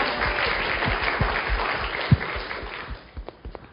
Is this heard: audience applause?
yes